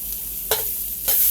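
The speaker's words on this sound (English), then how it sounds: "I'm just gonna saute this until it gets flagrant" Garlic and ginger sautéing in a pan, a close, steady sizzle broken by two sharp scraping bursts as a spatula stirs them.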